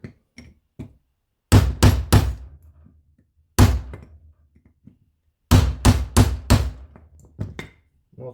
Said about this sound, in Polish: Młot, przecinak.